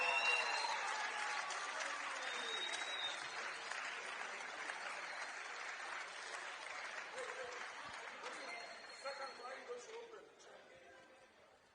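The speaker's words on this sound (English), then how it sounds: "Big round of applause." Warm applause from an audience at a Dutch Open awards ceremony in a stadium, a dense clapping that fades gradually over about twelve seconds, with a voice briefly heard near the end.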